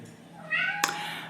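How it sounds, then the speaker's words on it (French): A pet cat named Socrate gives a single short meow close by in a quiet bedroom, followed by a brief sharp tap. "Alors commence pas à miauler pour rien."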